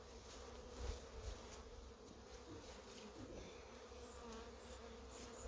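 A steady, close insect buzz from a honeybee, droning continuously with slight swells in loudness and no voices.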